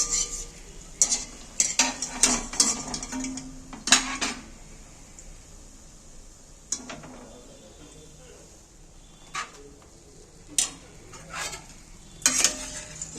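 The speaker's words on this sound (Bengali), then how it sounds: "রসের মধ্যে আমি একটু দিয়ে দিচ্ছি নাড়াচাড়া করে দিচ্ছি" Palm-fruit fritters are stirred in hot sugar syrup in a pan, giving intermittent clattering scrapes and clinks of a utensil against the pan in short bursts over a faint background sizzle.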